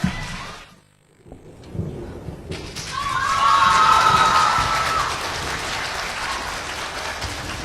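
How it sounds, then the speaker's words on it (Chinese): Audience applause for Yue opera performers on stage at a Shanghai theatre, rising after a brief lull into a dense, loud wash of clapping that holds steady to the end. "好，大家掌声有请。"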